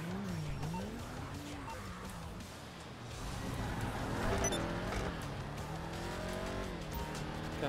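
A car in a GTA street-racing game revs and pulls away with squealing tires, engine pitch sweeping up and down through gear changes, loud and close with no talk over it.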